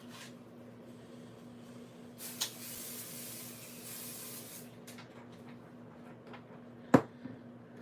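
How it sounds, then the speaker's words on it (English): Pixie spray hisses from a can onto a craft project in one steady burst of about two seconds, then a sharp click follows in a quiet room with a faint hum. "let's go ahead and spray this with some pixie spray"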